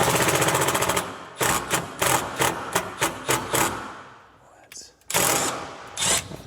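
Power drill driving screws into hardwood, heard as a series of short, loud whirring bursts that start and stop with brief pauses between them, close by.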